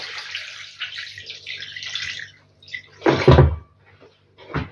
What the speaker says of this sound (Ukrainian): оці дрильовані вишні я додаю воду